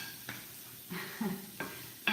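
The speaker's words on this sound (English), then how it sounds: "We're just sauteing vegetables, making a little guacamole." Vegetables sauté in a pan with a low sizzle, broken by a few soft scrapes of stirring at irregular intervals; close and quiet, with no speech.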